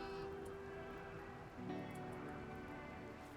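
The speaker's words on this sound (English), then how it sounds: "It is literally raining." Rain falling outdoors in a thunderstorm, a faint continuous patter and hiss that stays steady throughout.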